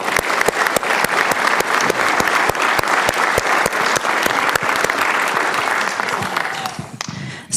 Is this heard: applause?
yes